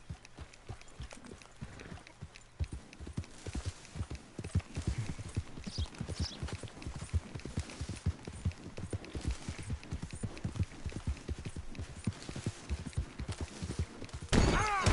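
Horse hooves clip-clop at a steady, rapid trot in Red Dead Redemption 2, close and continuous throughout, with a louder burst of noise right at the end.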